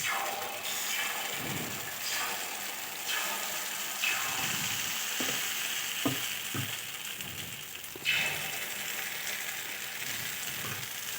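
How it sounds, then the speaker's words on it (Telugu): Ponganalu from bread dosa batter sizzle and fry steadily in a pan, a continuous crackling hiss with a few soft clanks and scrapes of utensils, close and alone without talk. "పెన్నంలో మనం ఈ పిండిని వేసేసుకుందాం ఇలా మనం చిన్న చిన్నగా ఇలా పొంగనాలు వేసుకుంటే"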